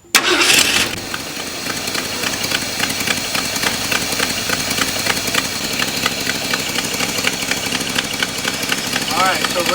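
A car engine tuned with a carburetor idle screw cranks and catches with a loud burst, then settles into a steady, even idle that runs close and continuous.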